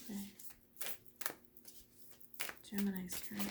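Tarot cards are shuffled in a series of quick papery riffles and soft slaps, close and crisp, broken by brief gaps, with a voice speaking in between.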